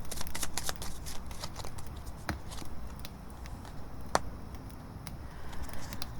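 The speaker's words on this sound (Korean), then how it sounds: "지금 이 갑작스러운 변화가 뭔지 제가 한번 카드 한 장만 더 뽑아 볼게요" Tarot cards being shuffled and drawn, a dense run of crisp papery riffles and flicks with a few sharper snaps, close and steady with no talking.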